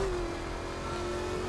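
A car engine revs steadily under load while driving, a sustained mid-pitched drone with a rising tone and a low rumble, close and loud throughout with no talking.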